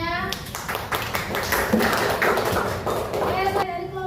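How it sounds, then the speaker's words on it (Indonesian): A classroom of students claps for their classmates in a short burst of scattered hand claps, mixed with talking voices. "kasih aplaus kepada teman-temannya"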